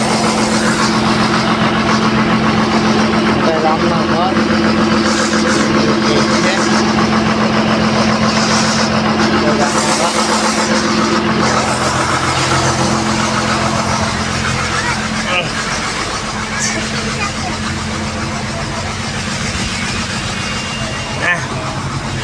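A Sundarbans tour boat's inboard engine runs steadily throughout, a loud continuous low drone and hum close by, with people talking over it.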